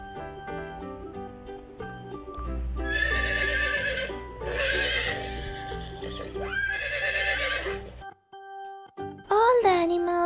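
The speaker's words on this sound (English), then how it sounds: "Horse and pony." A horse neighs loudly in several long, shrill whinnies with hooves clip-clopping and light music behind; a final short whinny follows after a brief pause.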